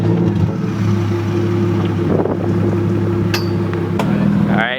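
A straight-piped BMW with a loud, droning exhaust rumbles steadily throughout, running continuously with a brief sharp rise near the end as it pulls away, with people talking faintly over it.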